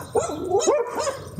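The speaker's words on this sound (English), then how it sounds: "My dogs are barking." Several dogs bark outdoors on a sunny day, three short loud yelping barks in quick succession, close by and with no talking over them.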